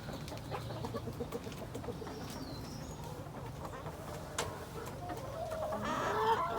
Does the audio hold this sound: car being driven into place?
no